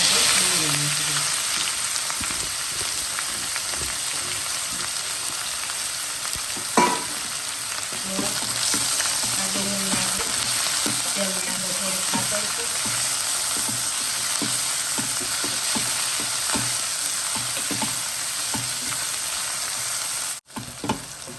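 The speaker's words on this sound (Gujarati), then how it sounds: "રાઈ આપણે પકડી ગઈ છે તેની અંદર આપણે ટમાટર નાખી દઈશું એની અંદર આપણે હિંગ નાખી દઈશું" Tomatoes and asafoetida frying in hot oil over crackled mustard seeds: a continuous close sizzle with stirring scrapes and a few sharp pops, steady throughout with no voices.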